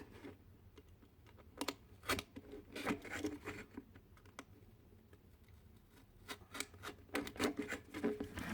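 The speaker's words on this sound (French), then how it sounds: "Je vais essayer avec des ciseaux si c'est plus facile." Scissors cut into a cardboard Pringles can, giving quiet close clicks and crunchy snips in irregular bursts with short pauses between, and no talking over them.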